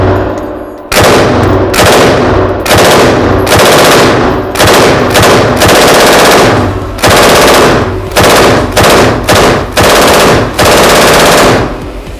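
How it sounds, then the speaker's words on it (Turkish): A KMG 556 machine gun fires long, very loud, close automatic bursts, broken by several short pauses, with metallic clinks between strings of rapid shots. "KMG 556 makinalı tüfekle de atışımızı yaptık."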